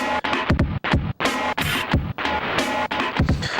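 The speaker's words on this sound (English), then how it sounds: "the sound of the overly exaggerated drums" Dense, heavily processed drum samples on a Roland SP-404 MK2 pounding in a fast, busy pattern, loud and crowded with booming low thumps and crunchy, distorted cracks.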